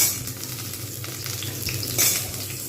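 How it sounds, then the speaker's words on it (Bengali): Potatoes and papaya frying in a little oil for a mixed vegetable curry, a continuous close sizzle with stirring scrapes and a brief louder burst near the end. "আলু হালকা করে ভাজা হয়ে গেছে এইবারে আমি এর মধ্যে দিয়ে দেবো পেঁপে"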